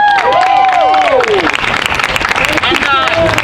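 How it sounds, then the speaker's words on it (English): Crowd applause at an outdoor Protect The Vote rally in Keene, with whoops and shouted voices over the first second and a half, then dense, steady clapping that carries on to the end. "Let's get another round of applause for him."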